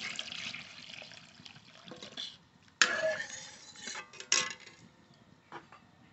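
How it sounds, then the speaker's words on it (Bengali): Water poured into a pot of simmering masoor lentil dal, heard as intermittent splashing and pouring bursts with a few clinks of a utensil against the pot, fairly close and moderately loud, with no talk. "এবার জল দিয়ে দেবো।"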